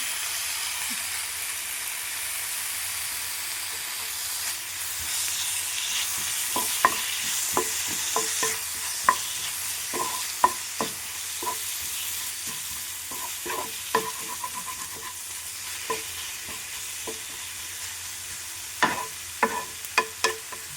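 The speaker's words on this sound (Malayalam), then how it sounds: "കുറച്ച് തക്കാളി വറക്കാം." Tomatoes fry in a pan seasoned with salt, turmeric, coriander and pepper powder, giving a steady soft sizzle with scattered crackles and stirring clinks throughout, no voices.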